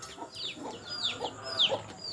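Chickens cluck and chirp inside a backyard chicken coop, a quick run of short, high calls close to the listener with no talk.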